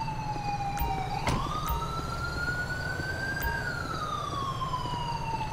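A wailing ambulance siren in the video game Grand Theft Auto V rises and falls in pitch at moderate distance, with a low vehicle rumble beneath and a brief thump partway through.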